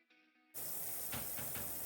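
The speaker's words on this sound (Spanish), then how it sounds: "pues echamos Fairy, agua caliente y metemos todo lo que hayamos sacado que está sucio" Hot water mixed with Fairy dish soap is poured to soak watch parts: after a faint hum, a sudden steady rush of pouring water begins, close and continuous, with a few small splashes.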